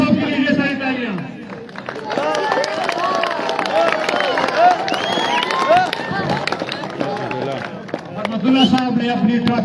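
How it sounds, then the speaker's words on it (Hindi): Crowd at a school prize ceremony claps and cheers steadily for an honoree, a broad wash of applause mixed with lively chatter and voices throughout, loud and close. "मजीदुल्लाह साहब के लिए ढेर सारी तालियां"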